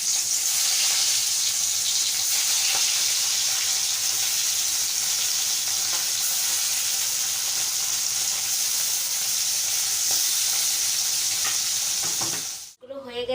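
Tangra fish frying in a pan: a steady, loud hiss and crackle of hot oil holds throughout, then cuts off abruptly near the end.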